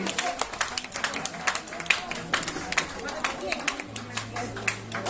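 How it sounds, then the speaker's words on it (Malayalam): Audience applause at a 50th wedding anniversary celebration, scattered claps and taps over crowd murmur and talk, moderately close and steady. "കൈയടിക്കൂ, എല്ലാവരും കൈയടിക്കൂ."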